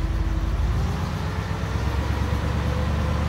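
A carbureted classic car engine runs loud and close, a steady low rumble that holds a fairly even idle-to-raised pitch throughout, with no talking.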